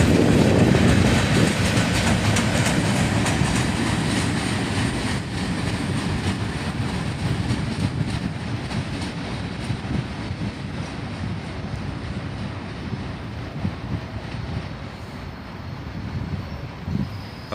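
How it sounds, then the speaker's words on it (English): A CSX freight train rumbles past close by, rusty old Soo Line cars rolling at the tail end, with a continuous heavy roar and clickety-clack of wheels that eases slightly as it goes on. "Some rusty old Sioux Line cars on the end of the train here."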